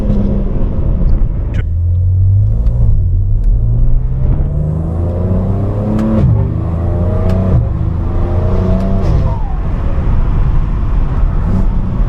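A G80 car accelerates hard and pulls through its gears, engine rumble rising in repeated climbing sweeps with gear changes, loud and close from inside the cabin.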